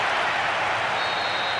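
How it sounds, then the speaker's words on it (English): A stadium crowd in the football video game Winning Eleven roars after a goal, a dense and sustained wash of cheering and applause that stays loud throughout with no clear speech. "you can hear the relief from the crowd"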